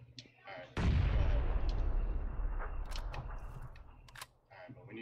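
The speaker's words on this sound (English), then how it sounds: "I threw a grenade" A grenade explosion in the PUBG video game lands as a sudden loud boom that decays into a long rumbling tail. A few faint clicks follow, and a voice murmurs briefly in the background.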